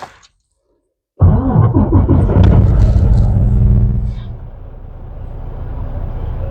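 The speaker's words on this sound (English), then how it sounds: "I'll start the truck." An automatic truck's engine cranks and catches after a brief silence, then settles into a loud, steady diesel-like rumble while idling in neutral with the brakes applied, easing slightly quieter toward the end.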